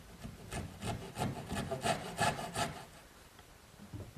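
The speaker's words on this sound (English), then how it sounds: "I'm going to use my little dovetailing saw" Small dovetail saw cutting a corner notch in wood, a close series of quick rhythmic rasping strokes, about a dozen in a row, before trailing off into quiet.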